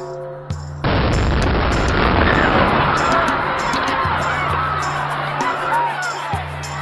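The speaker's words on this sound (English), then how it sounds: "were simultaneous explosions that occurred along the route of the Boston Marathon near the finish line" Explosions at the Boston Marathon finish line: a sudden loud blast gives way to a sustained roaring, crackling wash of noise, with a few faint lower tones under it.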